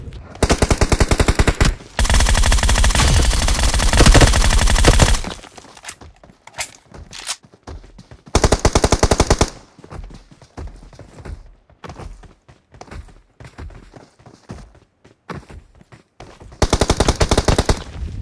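Loud automatic gunfire from a battle royale video game, long sustained bursts near the start with shorter bursts and scattered single shots and footsteps between, no talking.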